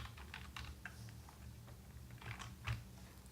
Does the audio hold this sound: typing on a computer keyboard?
yes